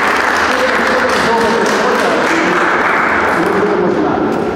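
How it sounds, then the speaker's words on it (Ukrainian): A crowd claps loudly and continuously at an award ceremony in Uzhhorod honouring the winners of an international cultural and social project. The applause is a dense, unbroken wash, with voices mixed underneath. "Оплески!"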